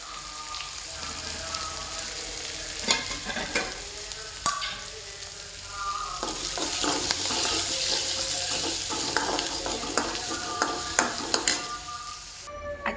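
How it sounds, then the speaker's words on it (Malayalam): Ginger, garlic and green chili sizzle in hot oil in a pan, stirred now and then with scraping clicks; the frying hiss rises and falls steadily, close by, with no talking. "ഇഞ്ചി വെളുത്തുള്ളി പച്ചമുളക് ഇതെല്ലാം ഒന്ന് ചൂടാക്കി അതിനകത്ത് ഇടണം"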